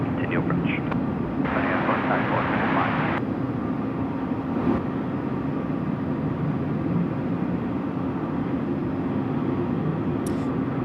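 A China Eastern airliner at Sydney Airport at night gives a steady, broad engine roar heard from some distance, with brief radio chatter near the start.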